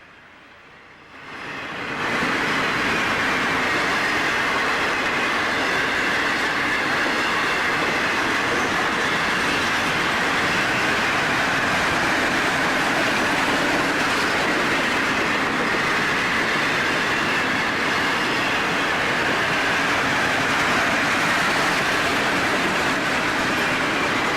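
An FEC freight train, number 216, rolls through town at dawn, a dense sustained roar of wheels and cars rising quickly from quiet and holding steady and loud throughout, with no voices.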